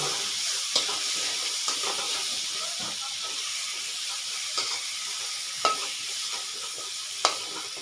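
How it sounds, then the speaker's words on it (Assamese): A rohu fish curry with potato, tomato, turmeric and salt is stirred in a pan, giving soft scraping clicks and a steady sizzling hiss, with a few sharper utensil knocks standing out. "এতিয়া মই অকণমান লৰা দি আছোঁ।"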